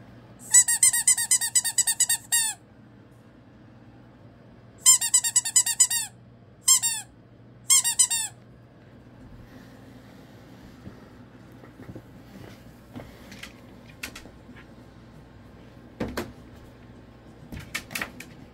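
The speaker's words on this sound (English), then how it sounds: "You don't want to play with the squeaky pig." A pink squeaky toy pig squeaks in quick repeated trains of shrill, close squeals, four bursts in the first eight seconds, then only soft scratches and taps with no speech.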